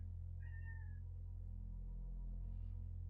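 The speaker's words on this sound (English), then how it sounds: "That cat is not happy." An unhappy cat gives one short, faint meow in a quiet room over a steady low hum, with no other sounds.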